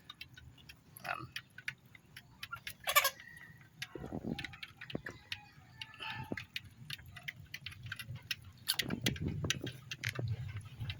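Chickens pecking and clucking over mixed feed laced with deworming medicine, with scattered short calls and rustling close by, fairly quiet, no talking.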